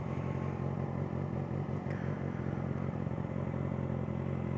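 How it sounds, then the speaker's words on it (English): A motorcycle pulls away as throttle is applied and the clutch is let out, its engine a steady, close low drone with mechanical clatter throughout and no rising rev. "Put your feet on the bike and just give it a little bit of gas and let off the clutch."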